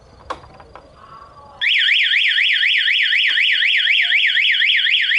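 A few faint clicks, then a loud motorcycle anti-theft alarm on a Honda Scoopy-i starts abruptly, warbling rapidly up and down without pause.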